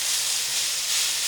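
Meat searing in a hot pan with onions for a rice-with-meat-and-pine-nuts dish, giving a loud, dense, even hiss throughout its short length, with no voices.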